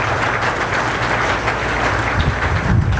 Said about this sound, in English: let's give a huge round of applause and welcome our new advisors on board